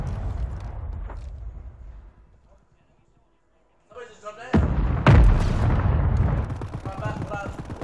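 Airstrike explosions in the video game Warzone: after a near-silent lull, a series of loud, booming blasts and rumbling impacts hits in quick succession, sustained and crackling afterward.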